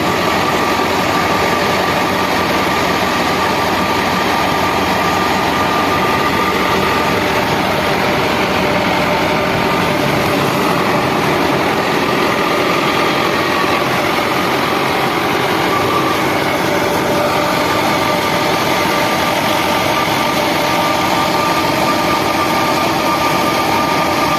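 A Fiat 640 tractor engine, 85 hp, runs steadily at close range, a loud continuous rumble with a constant hum and no pauses.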